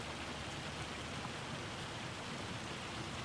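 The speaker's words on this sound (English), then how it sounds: "We're getting hailed on." Hail falling in the video game Farming Simulator 25, heard as a steady, dense hiss of pelting ice, faint and continuous without pauses or voices.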